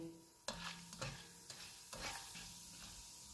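Whole spices (cumin, cloves, black and green cardamom, cinnamon, black pepper) frying in hot oil for mutton pulao, with a soft steady sizzle broken by several sharp stirring scrapes and clatters at close range.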